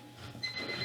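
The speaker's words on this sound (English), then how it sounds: "Oh, there's my alarm." A phone alarm goes off indoors, a short, thin electronic tone that starts beeping partway through at low to moderate volume.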